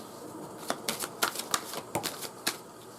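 Tarot cards being shuffled and pulled, a close, quiet run of crisp riffling snaps and flicks in an uneven rhythm, with no voice.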